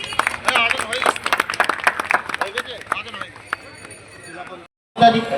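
A crowd claps for the arriving regional president at an outdoor political neighbourhood programme, with rapid dense applause that thins and stops, people talking through it.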